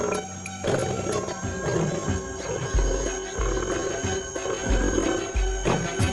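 A lion roars on the African plain, deep low rumbling bursts repeating through the clip over a dense, noisy wildlife soundscape, loud and fairly close.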